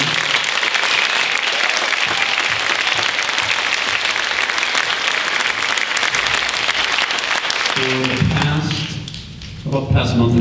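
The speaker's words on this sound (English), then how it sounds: "how about one more round of applause for our ensembles around the auditorium?" Sustained applause rolls through a high school auditorium after band ensembles at a spring concert, loud and continuous before fading near the end as a few voices emerge.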